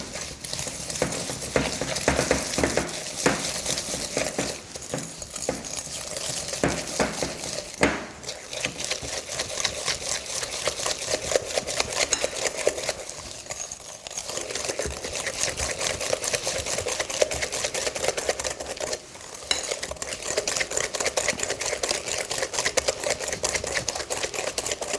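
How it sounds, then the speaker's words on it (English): A whisk beats sugar and corn flour into egg yolks for a gluten-free crema catalana, with rapid continuous ticking and clicking against a bowl, close up, steady and unbroken for a long stretch with only brief pauses. "add our sugar and our corn flour into the egg yolks, and to whisk them together till they're rich and thick and creamy"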